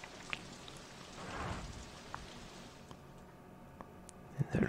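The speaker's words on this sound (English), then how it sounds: "The rain." Steady light rain patters as a soft, continuous hiss in the OpenRCT2 theme-park game, with a few scattered drip ticks, fairly quiet and without speech.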